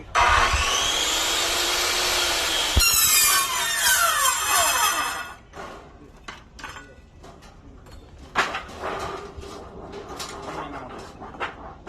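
A circular saw fitted with a ripping blade trims a small holding strip off a metal piece, its loud whine running steadily then dropping in pitch as the blade spins down, followed by softer handling noises.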